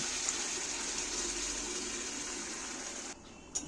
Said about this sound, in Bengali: ডালটা আমি এর মধ্যে ঢেলে দিচ্ছি